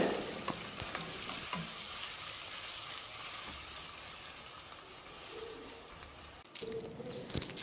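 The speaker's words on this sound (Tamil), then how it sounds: "வெங்காயம் நல்ல பொன்னிறமாக பொரிஞ்சு வர்ற வரைக்கும் நம்ம வதக்கிக்கணும்" Sliced onions sautéing in oil over a medium flame for seeraga samba mutton biryani, with a steady crackling sizzle and occasional stirring scrapes, and faint bird calls in the background.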